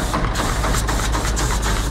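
A Chinese-made 30-horsepower single engine on a Vietnamese công nông farm vehicle chugs steadily at close range, a loud, rough, low rumble with a regular knocking pulse throughout.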